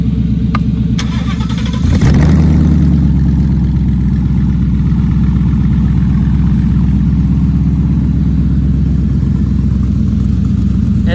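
A Ford Gen 3 Coyote 5.0L V8 paired with a 10R80 automatic, catching with a short starter burst, then settling into a loud, steady, close idle with an even throbbing rumble; no voices.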